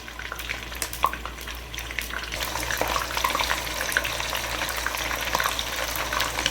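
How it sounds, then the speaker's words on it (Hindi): Chicken pieces frying in hot oil in a karahi, a steady dense crackle and sizzle that swells slightly as pieces go in, close and continuous without talk. "अब हम इसमें एक एक करके पीस चिकन के डालेंगे।"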